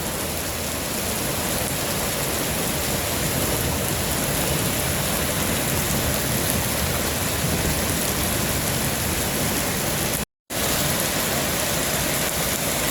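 Steady rain falls at night in Phoenix, a dense, continuous hiss of drops on surfaces, loud and close with no voices, broken by one brief cut to silence.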